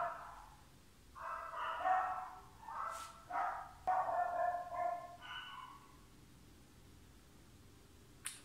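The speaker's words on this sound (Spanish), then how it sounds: "vamos a esperar a que los perros se callen" Several dogs bark in a quiet room in short bursts spread over several seconds, somewhat distant and with no talking. Silence follows.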